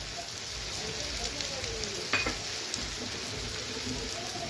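Olive pickle cooking with sugar and jaggery in a pan, a soft continuous sizzle with faint stirring and an occasional light clink of utensil on metal, fairly quiet and close.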